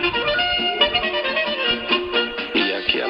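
A short repeating radio station interval signal plays clearly on Polskie Radio 1 longwave 225 kHz, bright tones cycling over a steady background, with no one talking.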